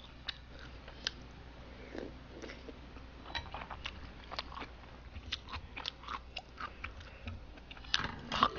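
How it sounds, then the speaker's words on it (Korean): Someone eating five-colour rice cake soup (tteokguk), with soft, irregular chewing and biting clicks close to the mic, a few sharper crunchy bites near the end, no talking. "저요? 밥 먹고 있어요."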